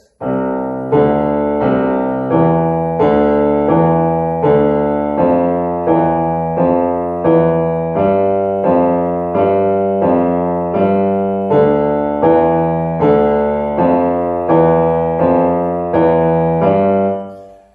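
Evenly paced sustained notes on a keyboard-like instrument, played slowly one after another in a steady pulse with no talking.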